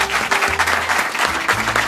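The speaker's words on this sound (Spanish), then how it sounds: "Un fuerte el aplauso para los chamos de farmacia Líder." Audience applause at a live Venezuelan stand-up comedy show, a steady burst of clapping from a crowd, fairly loud and continuous with no talk over it.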